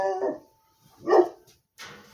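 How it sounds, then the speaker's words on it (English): A few dog barks in a backyard, coming in three separated bursts at moderate loudness, with quiet gaps between them and no talk. "Dogs in the backyard, and they're barking, probably at me, not realizing that it's me that they're hearing."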